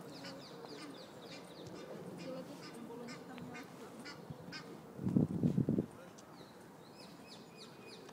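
Ducks and swans calling in Regent's Park: scattered quacks and honks, then a loud burst of honking close by, with faint background chatter.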